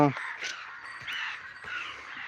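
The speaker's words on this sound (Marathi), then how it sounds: "हे बघा कावळ्याची शाळा सुटली" Crows cawing close by on a farm, a run of loud, harsh caws overlapping across a couple of seconds.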